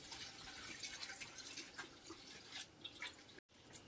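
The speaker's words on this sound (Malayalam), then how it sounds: "1 ലിറ്റർ വെള്ളം അതിലേക്ക് ഒഴിച്ചു കൊടുക്കുന്നുണ്ട്" About a litre of water poured onto chicken in a cooking pot in a small home kitchen gives a faint, continuous splashing and trickling that runs for nearly four seconds with one brief break, and no one speaks.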